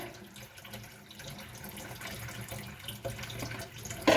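Lukewarm water is poured over kidney beans to soak them, making a soft, continuous splashing and trickling flow that swells briefly louder near the end.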